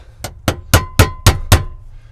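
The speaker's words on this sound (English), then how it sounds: "I'm going to grab a hammer and we're going to get that tapped out" A hammer taps a metal punch against the locking ring of a fuel pump on a Mini Cooper, six sharp metallic strikes at a steady rhythm about a quarter second apart, close and clear with no talking.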